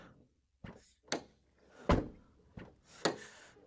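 Rear door of a Honda Civic being shut several times, a series of solid, close thunks spaced about half a second to a second apart, each with a short rattling tail.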